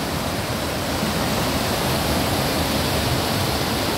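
A mountain river rushes through the Zauberwald forest at Hintersee, tumbling over a waterfall as a loud, constant, close roar of churning water with no pauses.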